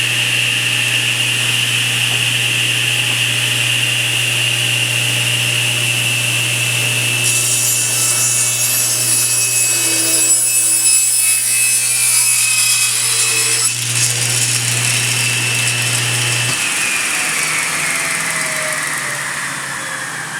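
A table saw rips through wood with a tapering jig to cut tapered table legs, a loud, steady whining cut with a deep motor hum that runs almost the whole stretch, then the pitch drops as the blade spins down near the end.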